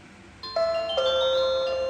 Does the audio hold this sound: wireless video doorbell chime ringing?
yes